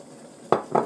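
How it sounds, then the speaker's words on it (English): Sticky natto is stirred in a bowl, giving a few quick scraping, clinking strokes of a utensil, close and sharp, after a brief quiet stretch and with no speech. "While you're waiting, you want to stir natto"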